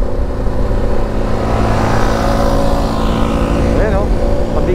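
Engine roar from a big motorcycle passing on the road dominates, loud and continuous with a rising whine near the end. The sound is picked up from another motorbike ride, and there may be speech under the engine noise.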